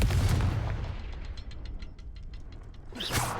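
The Confringo fire spell in the Hogwarts Legacy video game lets out a loud, booming blast with a heavy low rumble. A string of sharp crackling pops follows as it fades, then a second burst comes near the end.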